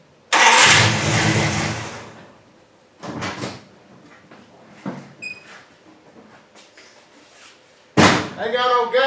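A 1974 Dodge Charger that had sat in a garage for two years cranks and fires with a loud, close burst, then sputters and revs unevenly in short bursts before catching again, with a voice briefly heard.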